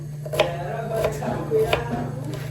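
A knife chops onion on a board in a few sharp, irregular strikes close by, with a steady low hum behind them and no speech over the cuts.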